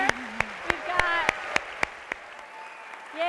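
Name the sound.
audience applause for the actors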